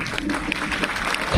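Applause from a mushaira audience, a dense patter of many hands clapping steadily throughout, with a voice faintly mixed under the crowd.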